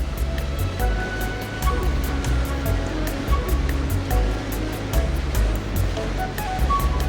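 Iguazu Falls on the Argentina–Brazil border roars in a constant, heavy wash of rushing water, loud and unbroken throughout.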